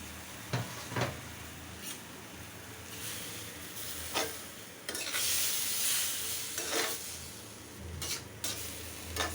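Tomatoes tipped into a hot frying pan and stirred while cooking a Bengali baila fish curry, with a steady sizzle under repeated scraping stirs and a few sharp utensil knocks against the pan, close and alone.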